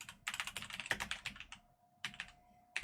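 Quick bursts of typing on a computer keyboard, clattering keystrokes close and clear with a brief pause before a final short flurry.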